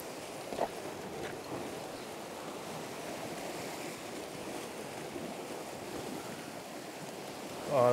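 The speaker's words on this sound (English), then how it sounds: "I'm just watching the waves here." Sea waves surge against a rocky shore on the Isle of Skye, with wind pushing swell onshore: a continuous rushing wash, mixed with wind buffeting the microphone and a few louder surges.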